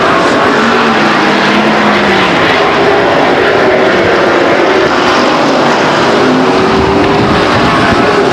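Race cars roar around Stockton 99 Speedway in a dense, continuous engine din, several cars blending into one loud, steady drone with pitch sweeps as they pass down the backstretch.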